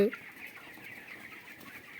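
Chickens cluck faintly on a poultry farm, a thin, steady stream of soft calls with one brief louder note at the very start and no clear talking.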